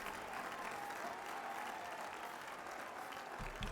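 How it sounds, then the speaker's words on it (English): Crowd applause in the video game Employee of the Month forms a continuous dense roar of clapping that stays loud and even throughout, with a brief voice near the end. "I can't hear anything over all this stupid applause."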